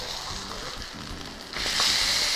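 A tilapia fillet sizzles in a pan after being flipped: a moderate crackling hiss swells suddenly louder and brighter partway through, with no clear talk.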